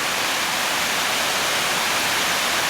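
Waterfall in a semicircular valley in northwest Ireland, heard as a steady, dense broadband rush of falling water that holds evenly loud throughout, with no voices over it.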